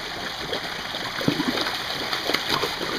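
Fish splashing at the surface of a backyard pond while being fed, small irregular splashes over a steady background of running water.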